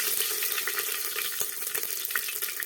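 Cumin seeds, garam masala and curry leaves sizzle steadily in hot peanut oil in a home kitchen pan, a dense bright hiss with small crackling pops throughout, close and fairly loud with no talking.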